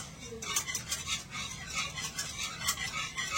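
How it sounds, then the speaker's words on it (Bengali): A milk mixture stirred in a pan over low heat, a spoon scraping and swishing in a steady repeating rhythm against the metal, close and moderately loud. "আর সমানে এভাবে করে একটু নাড়াচাড়া করতে হবে, তা না হলে কিন্তু নিচে দিয়ে লেগে যাবে"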